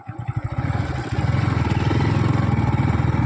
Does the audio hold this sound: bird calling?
no